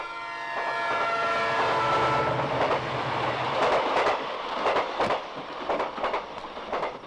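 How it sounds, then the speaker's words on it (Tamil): The Nellai Express train passes a closed level crossing, first sounding a long horn blast, then rumbling by with rhythmic clickety-clack of wheels over rail joints, fairly close and steady. "நெல்லை எக்ஸ்பிரஸ் 2 மணி நேரம் லேட்டா இப்பதான் வந்துட்டு இருக்கா"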